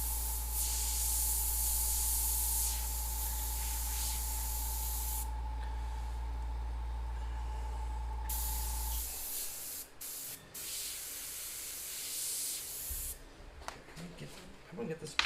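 An airbrush hisses steadily while spraying monochrome paint onto a board track racer motorcycle artwork, a loud continuous spray with a low hum beneath that stops partway, leaving quieter gaps and short bursts.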